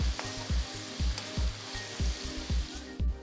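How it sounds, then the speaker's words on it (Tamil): Chopped large onions frying in oil in a kadai with bay leaf and cumin, giving a steady close sizzle beneath rhythmic background music. "அடுத்து 2 பெரிய வெங்காயம் பொடியை நறுக்கினது சேர்த்து நல்ல கோல்டன் ப்ரௌன் கலருக்கு வதக்குங்க."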